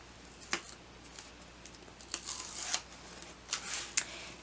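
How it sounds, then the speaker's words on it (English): Double-sided tape backing being peeled off while making a stand-up flipbook craft: a few short, close crackly rips and tearing bursts separated by brief quiet gaps, faint and isolated with no voices. "I'm just going to remove the backing of my double-sided tape."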